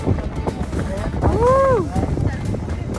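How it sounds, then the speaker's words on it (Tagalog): Strong wind buffets the microphone aboard a cruise boat at Doha port, a steady rumbling roar with a voice calling out briefly over it. "Wow, lakas ng hangin."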